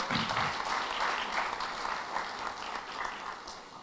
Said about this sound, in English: So ladies and gentlemen, please give a round of applause.